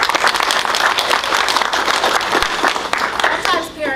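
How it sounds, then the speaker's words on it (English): Audience applause for young girl presenters at a girls-in-tech camp event, dense clapping throughout with cheers and a voice or two rising over it, tapering slightly near the end. "let's give our young ladies another round of applause"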